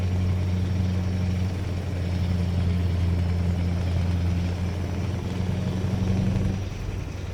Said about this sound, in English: V8, open pipe, lovely sound.